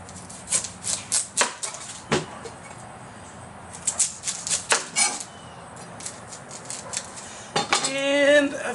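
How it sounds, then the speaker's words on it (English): A knife chops through an onion on a cutting board, giving a series of sharp, close taps at an uneven rhythm with clinks of utensils and a brief scraping sound near the end. "Got us an onion, so we're going to cut that onion."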